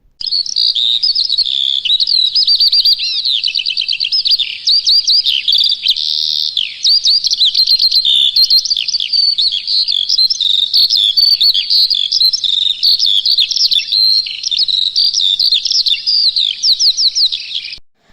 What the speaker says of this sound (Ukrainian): Так, правильно, це жайворонок.